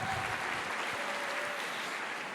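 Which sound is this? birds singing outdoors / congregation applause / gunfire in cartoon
congregation applause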